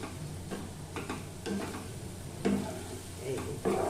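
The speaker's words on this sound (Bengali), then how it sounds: "চিংড়ি মাছটা দিয়ে দিলাম। এবার নাড়বো।" Prawns frying in a hot pan, being stirred with a spatula: a steady sizzle with repeated scraping strokes across the pan surface, close and moderately loud.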